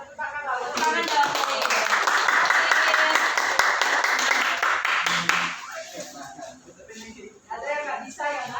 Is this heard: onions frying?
no